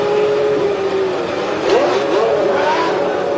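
A McLaren Formula One car's engine, at a race start during the warm-up lap, whines and rises briefly in pitch amid a loud, steady background roar.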